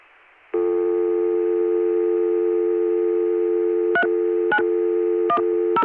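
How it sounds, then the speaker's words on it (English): A 442 PBX telephone dial tone from July 1980 hums steadily and loudly after a brief quiet start, broken near the end by several short dialing blips. "On the first one, we just get a 442 PBX dial tone"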